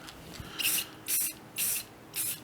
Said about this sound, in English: Now you can take your paint, your spray paint, and if you spray at an angle this way